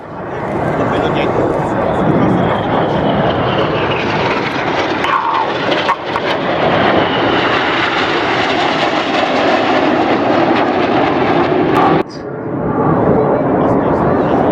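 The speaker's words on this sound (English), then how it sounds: "look right for a lone jet who is Red 9, and get your cameras ready as he flies in between" Red Arrows display jet flying past at an air show, a loud continuous roar that stays strong throughout, briefly dipping twice, with crowd and commentary noise blended underneath.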